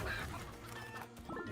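Chickens cluck in the video game Rumble, a soft run of short clucks and squawks across the moment with no speech over them.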